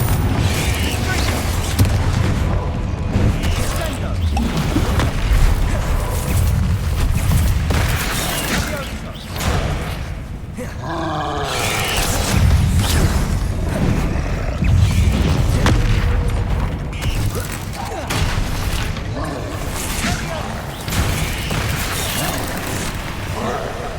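Repeated explosive booms from Bombarda and Confringo spells in Hogwarts Legacy combat, heavy thuds and bursts rolling one after another, loud and near, with a brief lull midway.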